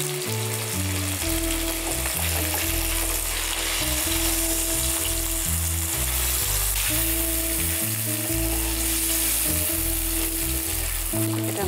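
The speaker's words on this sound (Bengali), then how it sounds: "পনিরটা কতক্ষণ ভাজতে হবে?" Paneer frying in a pan, a steady sizzle that runs throughout under loud music.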